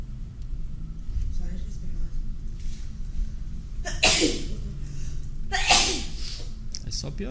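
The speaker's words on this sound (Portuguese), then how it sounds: "não tem como segurar um espirro" Two loud, close human sneezes burst out about a second and a half apart, each a sharp broadband blast, over a steady low room hum with faint background voices.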